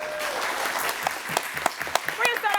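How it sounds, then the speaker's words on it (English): Audience applause for a school quiz team at a School Duel match, a steady wash of clapping through most of the stretch with a few louder isolated claps and voices toward the end. "let's give them a big round of applause"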